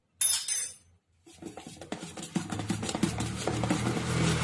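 Urad dal batter being whisked for bhalle in a bowl, a brief clatter followed by a short pause, then steady rhythmic beating and scraping that builds and continues close up.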